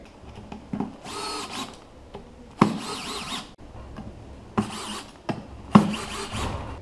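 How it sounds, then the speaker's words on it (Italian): A power drill bores a cup-hinge hole into wood for a Hettich concealed soft-close hinge, several bursts of whining drilling close up, separated by short pauses and clicks. "Per andare a forare dove andrà lo scodellino della cerniera"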